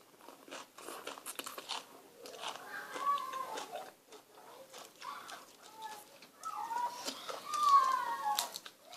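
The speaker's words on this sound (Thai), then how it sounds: "กรอบจ้ะ กรอบ ทั้งกรอบทั้งหวาน" Crunchy fresh raw vegetables are bitten and chewed alongside spicy som tam, a series of close, sharp crunches with pauses between them, while birds chirp faintly in the background.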